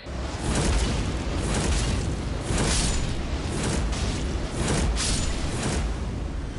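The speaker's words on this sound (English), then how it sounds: "I can just shoot air blast" Air blast weapon fired in Elden Ring, a sustained booming, whooshing blast roaring loudly and steadily across the whole stretch with surging pulses, no talk over it.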